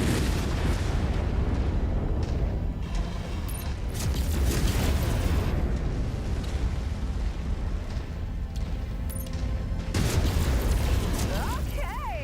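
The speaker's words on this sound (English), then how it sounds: "Oh, was there an ammo explosion on it?" A Crusader mech's ammo explodes in MechWarrior 5: Mercenaries, amid a dense, continuous barrage of booms and bursts from SRM fire and battle noise, with several sharp blasts standing out over the rumble as a player talks over it.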